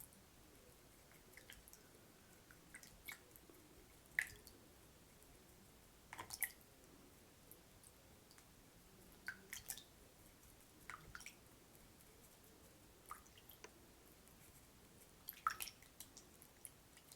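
A makeup brush is rinsed in water, with soft scattered drips, squishes and wet clicks, close and quiet against a hushed background.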